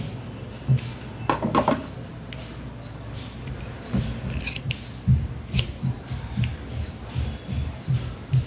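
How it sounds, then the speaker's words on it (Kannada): Scissors snip away extra blouse fabric in a series of close, crisp cuts spread unevenly over several seconds, with soft rustling of cloth between the snips. "ಎಕ್ಸ್ಟ್ರಾ ಇರೋದನ್ನು ಕಟ್ ಮಾಡಿ"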